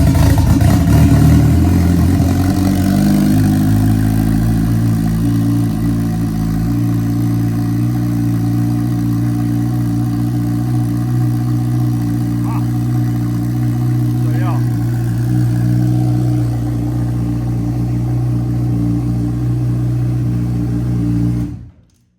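A Suzuki Turbo Hayabusa motorcycle engine fires up and settles into a loud, steady idle on its startup map, running close and continuous for about twenty seconds before cutting off.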